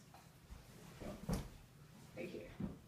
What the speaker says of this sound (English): You have open the drawer.